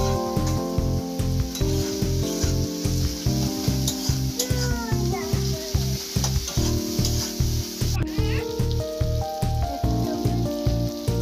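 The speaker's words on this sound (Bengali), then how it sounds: "তারপরে একটু ভালো করে ভেজে নেব।" Spices with coriander powder fry for a pasta dish in a pan, giving a crackling sizzle with stirring scrapes. A loud, rhythmic music track plays over it throughout.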